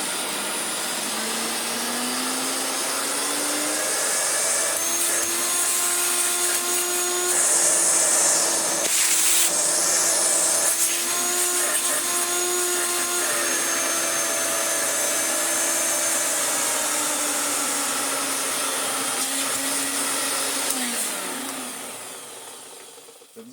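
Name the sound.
Hoover Turbomaster vacuum cleaner running, tool suction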